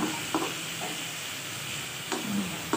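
Carrots and tofu sautéing in a pan, a steady close sizzle and hiss with a few scrapes of stirring.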